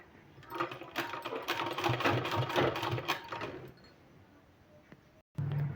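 A sewing machine stitches along a folded sleeve piece, a dense rapid rattle running for about four seconds before tapering off, then a brief gap and a short renewed burst.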